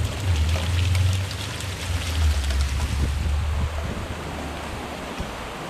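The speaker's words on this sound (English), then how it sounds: "The gutter's overflowing big time." Rainwater overflowing a gutter gushes and splashes steadily over the edge in a loud, continuous rush, like a small waterfall, with a low rumble underneath.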